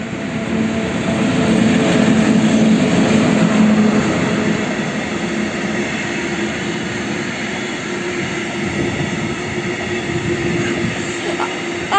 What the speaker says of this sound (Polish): a tu jedzie nam towarówka